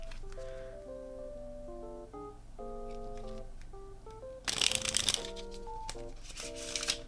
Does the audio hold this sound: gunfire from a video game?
no